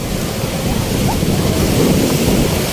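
Rough sea waves churn and roar continuously, loud and close, in rainy weather, with heavy wind rumbling over the microphone.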